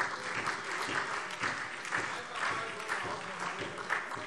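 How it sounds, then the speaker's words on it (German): Applause rises in a parliamentary plenary chamber, a steady wash of many hands clapping, fairly faint and distant, with no voices cutting through. "Applaus"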